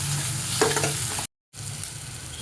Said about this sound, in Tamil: ஸோ ஆனியன் நல்லா வதங்கட்டும்.